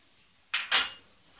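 Ginger garlic paste hits hot frying onions in a pan for goat meat and lentils, giving two quick bursts of sizzling hiss that fade back to near quiet.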